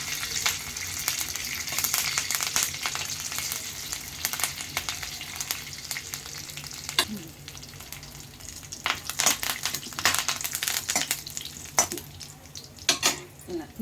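Curry leaves fry in a hot pan with a loud, dense sizzle and crackle that runs throughout, broken by occasional sharp pops and the scrape of stirring close by.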